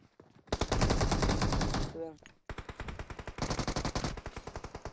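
Automatic rifle fire in PUBG Mobile, with loud rapid bursts of gunshots in a continuous stream, a brief pause, then more rhythmic bursts, heard close up.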